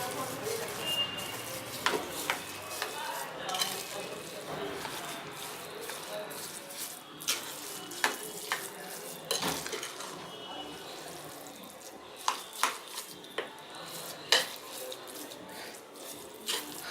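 A spoon stirs rice pudding in a metal pan, with a steady wet swish and scattered sharp clinks against the metal, close by.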